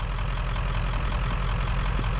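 A Ford 7.3 Powerstroke diesel plow truck idles in a steady low rumble, heard up close and alone, with no talk and no change in engine speed.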